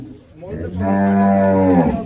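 A Cholistani Friesian cross cow at a cattle sale in Punjab lets out one long, loud moo close by. It swells quickly after a brief, quieter start.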